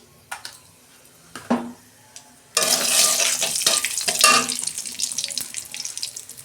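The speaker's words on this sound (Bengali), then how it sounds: "ওই কড়াতে আমি তেল দিচ্ছি, কালো জিরে দিচ্ছি" Oil in a kadai bursts into loud, crackling sizzle after black cumin seeds go in. A few knocks come first, then the frying spits continuously.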